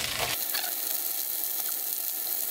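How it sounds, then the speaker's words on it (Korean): Cabbage and other vegetables stir-fry in oil in a pan, a broad, steady sizzling hiss after a short rustling clatter at the start, close and fairly loud, with no talking. "야채를 먼저 슬슬 볶아주세요."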